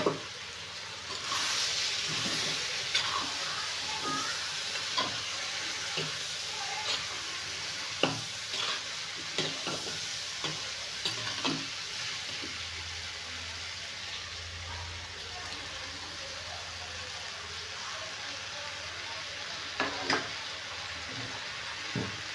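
Tomatoes are added to a pan and fry with a steady hiss and sizzle, broken by scattered scrapes and taps of a stirring spoon, close by under occasional talk.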